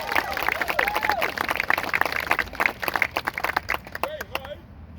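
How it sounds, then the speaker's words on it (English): A crowd applauds at a luminaries dedication event in Orlando, Florida, with steady clapping that thins into scattered claps toward the end, while voices and cheers rise over it. "So let's applaud him for that"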